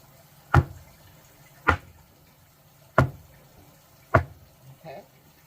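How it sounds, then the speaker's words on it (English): Four sharp, evenly spaced knocks as a cake pan of banana pudding cake batter is struck against a kitchen counter, followed by a softer shuffle at the end; close and distinct with no talking. "hitting the cake pan to the counter to eliminate some of these bubbles"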